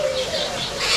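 A caged spotted dove with congested, labored breathing gives a halting, wheezy call, a thin steady tone over breathy noise, close and continuous for about a second.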